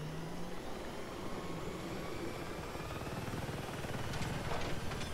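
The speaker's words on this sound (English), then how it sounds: "nobody take my helicopter" A helicopter in Battlefield 6 drones with a steady, faint rotor and engine hum, constant and distant-sounding throughout, slightly swelling near the end.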